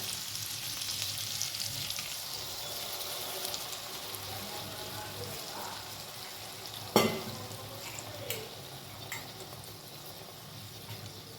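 Mustard-poppy paste cooks with softened okra in a pan, giving a soft continuous sizzle with faint bubbling, broken by a sharp utensil clink and a few lighter knocks later on.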